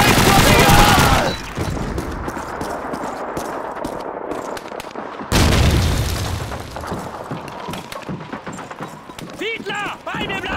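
In Call of Duty 2's Stalingrad battle, a grenade explodes amid gunfire: a loud burst at the start, then a continuous clatter of rifle and machine-gun fire, another heavy blast midway, and shouting voices throughout.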